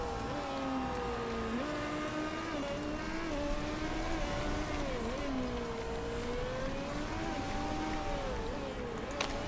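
Race cars in the Motorsport Manager racing game, a steady high engine whine rising and falling through gear shifts and corners, heard at a distance, low and continuous throughout.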